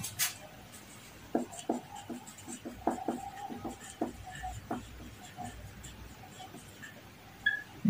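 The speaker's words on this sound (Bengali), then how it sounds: "তো আমরা এটা প্রথমে লিখে দিব" A pen writes a binary number by hand on paper, making short scratchy strokes in quick irregular bursts, close and quiet, alone without speech.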